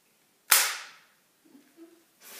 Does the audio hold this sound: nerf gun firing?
yes